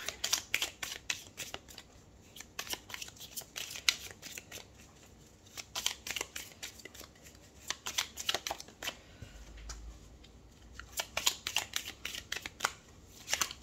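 Tarot cards shuffled and laid out in a quiet room, producing bursts of crisp riffling and soft slapping flicks in irregular clusters, close and fairly faint, with no talking.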